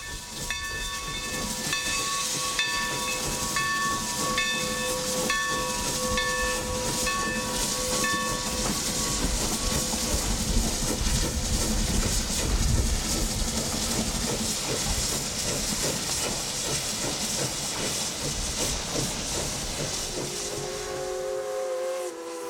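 Steam locomotive number 316 on the Texas State Railroad blasting past at speed, loud continuous hiss and chuffing with a long steam whistle call sounding for the first several seconds, steady and close throughout.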